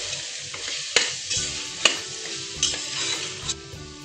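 Vajri masala is sautéed in a pan under a bright, continuous sizzle, with a few sharp spoon knocks on the metal at uneven intervals.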